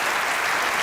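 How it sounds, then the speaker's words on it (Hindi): Studio audience applause on a Hasna Mana Hai talk show, a brief, steady burst of dense clapping that fills the room without gaps. "तालियां होनी चाहिए।"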